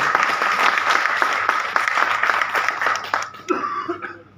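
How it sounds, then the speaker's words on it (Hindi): A crowd at an event applauds loudly and steadily for Agarwal sahab, with dense continuous clapping that tapers off near the end amid a cough or two and faint murmurs. "अग्रवाल साहब, जोरदार तालियां बजा दो यार अग्रवाल साहब के लिए"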